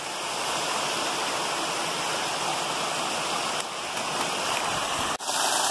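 A powerful waterfall pounds down steadily, a loud, dense roar of pouring water that fills the whole stretch without a break, close by on a trail.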